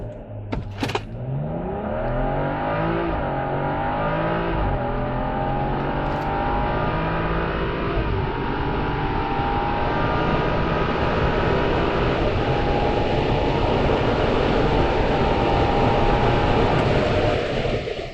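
A stock BMW M235i engine roars steadily under hard acceleration on a quarter-mile run, a loud continuous drone with rising pitch sweeps as it pulls through the gears, no voices.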